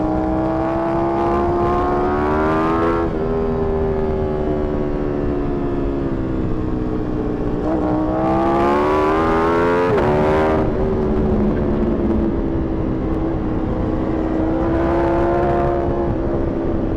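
Ducati Panigale V4R motorcycle engine heard from the rider's seat, holding a loud steady drone with rising revs and sharp pitch swells around the middle and again near the end, continuous throughout.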